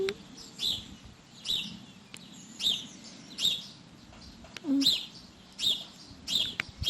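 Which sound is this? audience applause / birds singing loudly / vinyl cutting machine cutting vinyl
birds singing loudly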